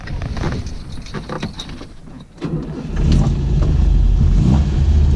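A 1967 Volvo 1800S classic car engine cranks with a jangle of keys, then catches after about two seconds and settles into a loud, steady, close idle for the rest of the clip.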